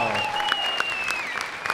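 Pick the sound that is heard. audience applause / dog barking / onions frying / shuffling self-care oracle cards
audience applause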